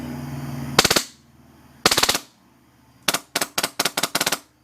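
An HPA Wolverine Inferno airsoft gun fires outdoors in three loud bursts, two tight rapid strings and then a quicker run of separate snaps as the magazine empties, with no voices.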